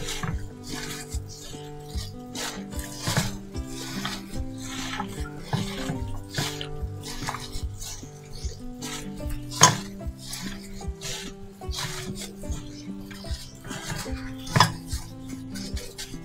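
Peeled shrimp are stirred and mixed for marinating in a bowl, with steady soft clinks and scrapes of a utensil against the dish at close range.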